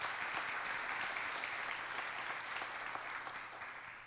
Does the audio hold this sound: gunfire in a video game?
no